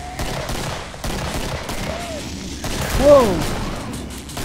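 Rapid gunfire bursts in the co-op shooter game Killing Floor, crackling in repeated volleys over game effects while a player talks and exclaims.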